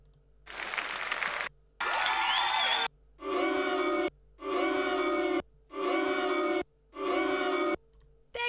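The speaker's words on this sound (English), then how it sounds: "Click on the applause-o-meter to get the audience to respond to the show." Cartoon crowd cheering and clapping in the Play-Doh Creations video game's Great Dough Show, set off in repeated bursts of about a second each, separated by short silences.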